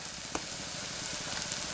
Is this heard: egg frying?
yes